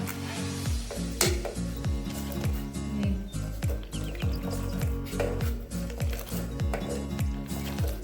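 Kashmiri pink tea being whisked vigorously in a pot over medium heat, a steady rhythmic clatter of repeated strokes with a bubbling, sizzling wash underneath.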